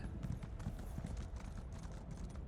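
Horse hooves clip-clop steadily as a mount trots along in the Elder Scrolls Online video game, a continuous rhythmic patter of close hoofbeats with no voices over it.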